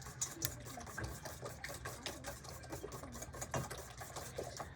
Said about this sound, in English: Going to beat these with a wire whisk until they're all mixed well, beat well.